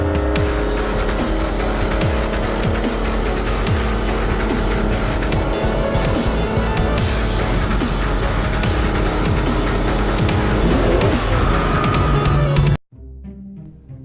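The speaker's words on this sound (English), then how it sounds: "1970 Aston Martin DBS Vantage. The DBS was Britain's answer to the Mustang. It had a 4-litre engine initially" A 1970 Aston Martin DBS Vantage with a 4-litre engine roars loudly and continuously, its revs rising and falling with tire and road noise before cutting off abruptly near the end, leaving faint quiet sound.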